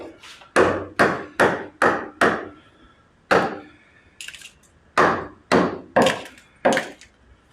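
Heavy hammer blows knocking a block out while splitting a 1920 Ford tractor apart to replace its clutch: a sharp, close series of about eleven metallic-wooden strikes, five in quick rhythm, a pause with small clinks, then six more.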